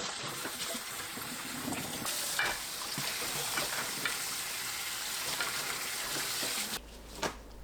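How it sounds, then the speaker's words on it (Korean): Garlic scapes being rinsed by hand in a bowl of water, with close splashing, swishing and dripping throughout and a brief louder splash near the end. "2번 헹굽니다."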